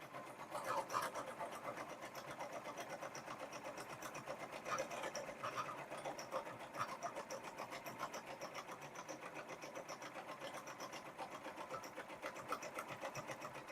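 An embroidery machine sews a satin stitch on a pumpkin mug rug, giving a faint, steady mechanical whirring and rapid needle chatter that runs continuously with slight fluctuations.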